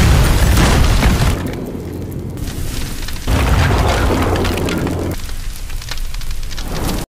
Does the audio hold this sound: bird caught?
no